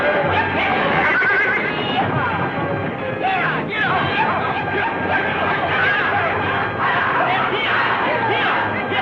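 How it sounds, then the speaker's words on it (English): Horses whinny and snort repeatedly in a barn, loud and close, their neighs overlapping in a noisy, continuous stretch. "Them horses may start sounding off again."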